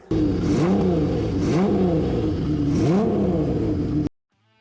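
Honda CBX1000 six-cylinder motorcycle with a handmade one-off 6-into-1 exhaust, revved three times in quick succession, each blip rising and falling loudly and close against a steady rumble, then cutting off abruptly.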